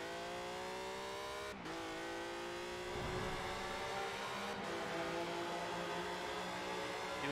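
A tuned car races at high speed along a highway in Forza Horizon 4, its engine holding a loud, steady roar as it accelerates, with a couple of brief dips in the sound, like gear shifts.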